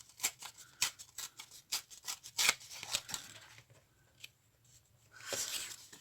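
Scissors cutting paper cards, a series of crisp snips in quick irregular succession, close and quiet, followed by a longer rustling cut.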